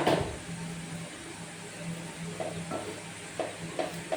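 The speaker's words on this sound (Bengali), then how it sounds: "একটু ধৈর্য নিয়ে ভাজতে হয়, কারণ মোটা পরোটা সাইডগুলো যদি কাঁচা থেকে যায় সেটা ভালো লাগবে না" A thick paratha fries slowly in a pan with a low, steady sizzle, broken by a few light scrapes and taps from turning or pressing, quiet and close with no speech.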